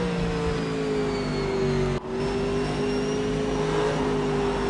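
Race cars at Infineon Raceway hold a loud, steady engine drone with a sustained tonal whine, dipping briefly midway before resuming, no voices over it.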